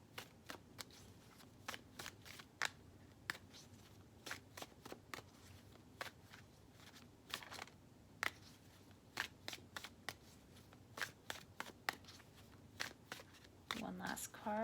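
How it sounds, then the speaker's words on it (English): Tarot cards being shuffled by hand in a continuous run of crisp riffling flicks and soft slaps, close and fairly quiet, with a voice talking faintly underneath. "Now you see that I'm shuffling"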